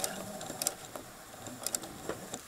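A sewing machine stitches fabric with quiet, quick mechanical ticking and whirring, a few sharper clicks breaking up a soft, steady run.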